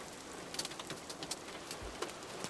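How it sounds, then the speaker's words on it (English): Falling hail in the Minetest game ticks and clicks sparsely against a quiet steady hiss, the light impacts coming at irregular moments with nobody speaking. "Like, I guess this is hail now."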